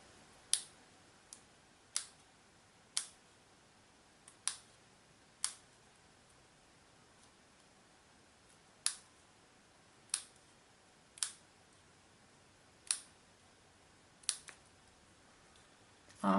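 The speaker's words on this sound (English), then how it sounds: "So I'm just cutting that piece out." Sharp, isolated snips of scissors cutting paper, about a dozen crisp clicks spaced irregularly against quiet background hiss.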